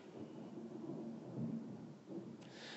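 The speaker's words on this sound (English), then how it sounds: "You hear the thunder," Low distant thunder rolls through a storm, a faint deep rumble that swells and fades with a soft hiss of rain behind it.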